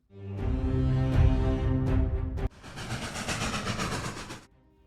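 Train running sound effect in a Kyrgyz audiobook: a steady, loud rumble of a moving train with rhythmic clickety-clack of wheels on rails, shifting midway to a brighter rattling passage before fading out, with no voices.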